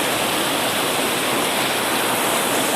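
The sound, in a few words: floodwater flowing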